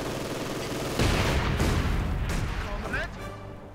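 Battle gunfire from the Company of Heroes 2 video game, bursts of rifle and machine gun fire with booming impacts, rolling on for a few seconds under a commentator's voice.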